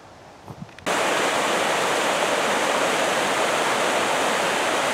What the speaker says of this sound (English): The waterfall kind of gives you an idea of the debit of Ranger Creek here towards Cockscomb Mountain in Banff